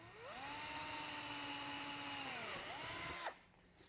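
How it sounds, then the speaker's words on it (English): A power drill whines loudly and steadily for about three seconds, drilling a starter hole during a car speaker installation, its pitch dipping and rising as the bit bites, then cuts off abruptly. "I'm going to drill a couple holes to start this cutting and also to finish."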